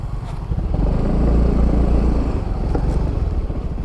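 A Honda Fazzio motor scooter rides along a nature route in Bulusan, its engine a steady, close, loud drone with low rumble that swells slightly mid-ride, with no voices over it.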